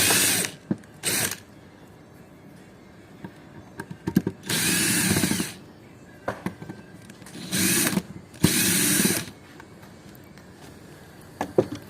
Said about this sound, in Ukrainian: Нам потрібно відкрутити три вінта.